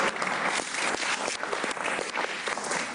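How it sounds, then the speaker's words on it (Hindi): Sustained audience clapping on a T20 World Cup cricket talk show, loud, close and unbroken for several seconds, with no talking underneath. "आज बैठे उसकी तालियां बजाइए।"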